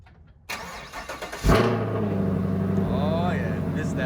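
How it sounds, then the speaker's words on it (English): A 2016-or-later Chevrolet Camaro engine turns over with a short starter crank, then catches with a loud burst into a high, steady cold-start idle, close by, with no talk. "let's get a nice cold start for you guys"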